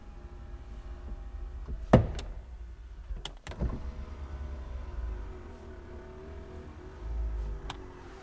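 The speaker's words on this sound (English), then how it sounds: "The windows, though I won't roll them up all the way." Electric power windows on a 1971 Mercedes-Benz 280 SE run with a low, steady motor hum, broken by a few sharp clicks and thumps as the switches and glass stop, all fairly close in a quiet interior.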